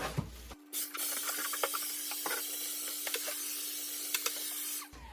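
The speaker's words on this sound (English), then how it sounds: "So I'm gonna give this a quick little vacuum." A small vacuum motor whines steadily at close range, its hum punctuated by scattered clicks and rattles as it moves over a surface, then switches off.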